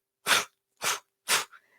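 A human voice imitates a cat sneezing with three short, breathy sneezes in quick succession, close and clear, with a faint trailing sniff after the last.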